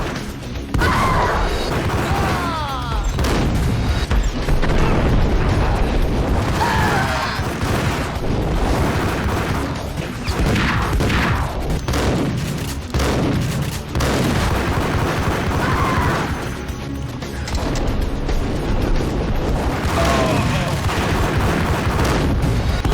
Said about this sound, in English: after shooting Candy in the face 8 times with my trusty dual Berettas